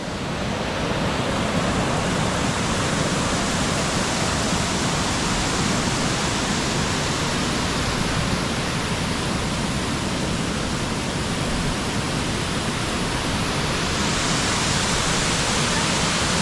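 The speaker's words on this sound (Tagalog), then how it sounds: "Waterfall." A waterfall at Cat Cat Village roars as a constant, dense wash of rushing water, loud and unbroken throughout.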